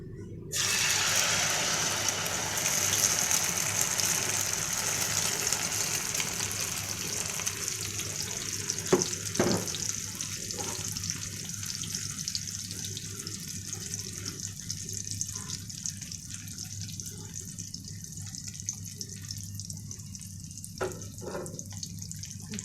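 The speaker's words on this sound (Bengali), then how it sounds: "তাওয়া গরম হয়ে গেছে তেল গরম হয়ে গেছে এখন ডিমটা ছাড়বো" An egg frying in hot oil on a heated tawa gives a steady, close sizzle and hiss that runs throughout, with faint crackles and spatters over the constant frying noise.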